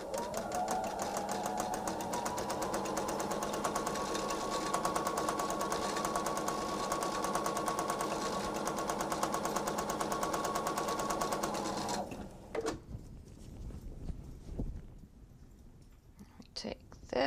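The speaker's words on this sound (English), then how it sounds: "Okay, now we can sew." A sewing machine stitches a table runner in a long, steady, close whirr for about twelve seconds, then stops, leaving soft handling noises and faint rustling.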